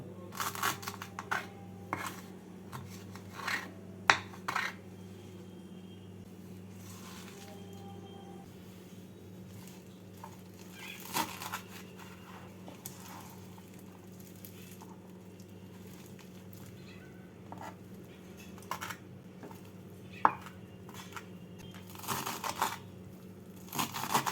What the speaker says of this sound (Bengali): শাকগুলোকে এইভাবে কুচিয়ে নিচ্ছি